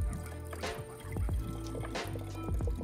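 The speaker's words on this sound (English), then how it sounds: "My Dometic Go hydration water jug with the rechargeable faucet is always a hit at camp" Water flows from a Dometic Go hydration jug with a rechargeable electric faucet at a campsite, a close, steady liquid pour with a trickling fill and low pump hum running the whole time.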